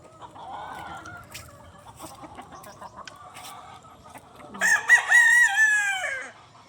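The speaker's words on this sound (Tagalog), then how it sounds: "Daming manok no." On a small farm with hundreds of chickens, hens cluck in a low chatter before a rooster lets out a loud, drawn-out crow close by.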